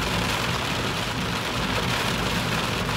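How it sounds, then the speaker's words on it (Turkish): Steady, dense rain pours down during a downpour in Germany, heard while caught out in a convertible car, a loud, continuous wash of drops with no voices. "O da yağmura döndü."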